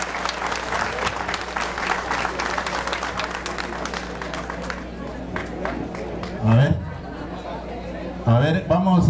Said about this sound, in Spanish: Un aplauso para todos ellos, para todos ustedes